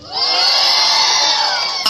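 A crowd cheering and shouting together in a loud, sustained burst of high-pitched whoops and yells, held steadily for nearly two seconds before cutting off abruptly.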